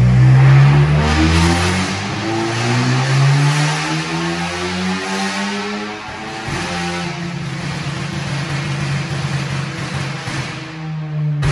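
An Audi A3 2.0 turbo engine revs hard under full throttle with its mufflers removed, its pitch climbing steadily through gears with a turbo whine, loud and close.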